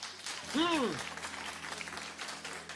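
Scattered audience applause runs through the moment, with a short vocal exclamation rising and falling over the clapping early on.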